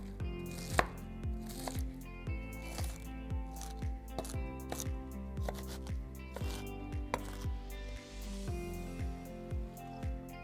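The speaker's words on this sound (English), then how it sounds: "Then we're going to shred up that cabbage, which my version of shredding is chopping." A knife chops through cabbage on a cutting board for a crunchy kale salad, a steady series of crisp, close thuds at a regular rhythm, with a brief rustle of leaves near the end.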